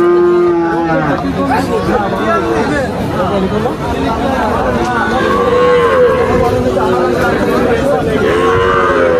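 Australian heifer calves and other cattle moo repeatedly at the crowded Tepakhola cattle market, loud and close, with overlapping calls throughout and a murmur of people chatting in the background.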